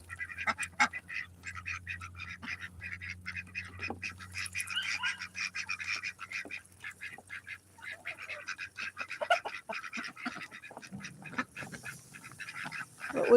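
Muscovy and Ancona ducks quack and chatter repeatedly while feeding near water, close and irregular, with soft rustles and no talk.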